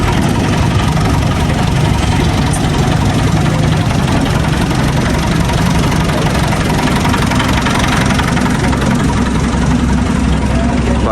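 A Massey Ferguson 260 tractor engine runs loud and close, a steady diesel rumble with a rough, knocking edge that holds unbroken for the whole stretch.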